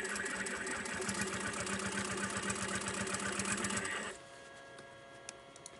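A sewing machine stitching along a recycled denim pouch: loud, close, rapid rhythmic needle clatter and motor hum for about four seconds, then it stops abruptly, leaving quiet handling noises.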